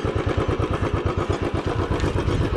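Motorcycle engine on a rough stony mountain road, a close, loud chugging with rapid regular pulses and rattling clatter from the bike jolting over rocks.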